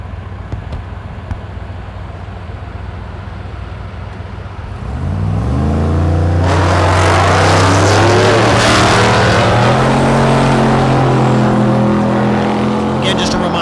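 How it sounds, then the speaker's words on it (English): A Dodge Challenger and a Chevrolet Vega do burnouts at a drag strip, the engines revving up into a loud, sustained roar with rising and falling pitch after a quieter opening, under an announcer's voice. "Next pair, they're doing their burnouts."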